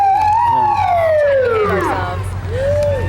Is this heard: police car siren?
yes